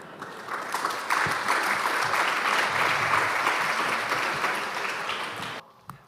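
An audience at a lecture applauds, a dense steady wash of clapping that stays loud for about five seconds and then stops abruptly.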